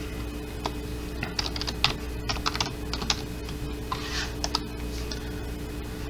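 Keys clatter on a computer keyboard as a new name is typed, in irregular quick bursts of clicks over a steady electrical hum, close and moderately loud.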